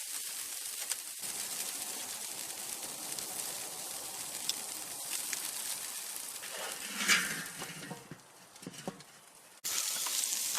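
T-bone steaks sizzle on a charcoal grill, a soft, steady crackling hiss with a few sharper pops and scrapes as the meat is turned, and no voices.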